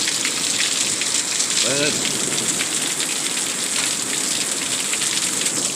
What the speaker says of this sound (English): I swear we're getting hail out here.